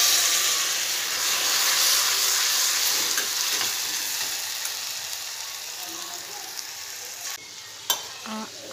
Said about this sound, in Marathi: आता आपण टोमॅटो टाकू आणि हलवू।